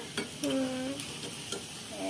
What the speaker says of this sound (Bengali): আর এসব ভাজা পোড়া বানাতে গেলে তেল দিয়ে একদম চুলা টুলা মেখে যায়